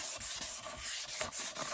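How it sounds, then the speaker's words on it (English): Plastic rear light lens from a Toyota Celica being sanded by hand, a steady close-up scratchy rubbing in repeated back-and-forth strokes with no voices. "what you actually are doing is literally sanding down the plastic on the lens"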